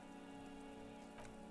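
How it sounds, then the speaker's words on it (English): Rain falls in the video game Disco Elysium, a soft, steady patter across the whole stretch, faint and with no voice over it. "a silvery curtain of rain over the houses"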